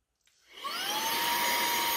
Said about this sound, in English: that'll be the sound of the vacuum here